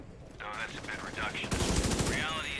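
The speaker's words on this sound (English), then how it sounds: "Oh wait, I'm shooting at you." Rapid bursts of automatic gunfire from a firefight in The Division 2: Warlords of New York, loud and dense in the second half, with a voice talking over the shots.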